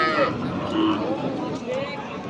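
Cows and calves low and moo amid a busy outdoor crowd, with people talking all around at a rural cattle market in Bangladesh, including Sahiwal, Sindhi and local dairy breeds.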